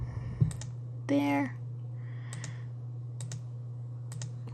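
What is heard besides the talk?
mouse clicks while using Illustrator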